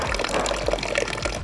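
Water runs from the tap of a Dometic hydration jug in a continuous splashing, gurgling pour, close and moderately loud for the whole moment.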